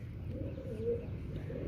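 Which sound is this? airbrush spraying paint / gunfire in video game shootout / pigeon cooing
pigeon cooing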